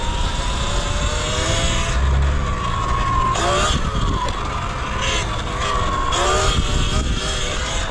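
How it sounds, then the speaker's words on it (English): Loud, continuous motor traffic on a Los Angeles street, heard up close from a bicycle, with rumbling engines and passing vehicles swelling and fading over a constant roar. "And we're stuck in traffic."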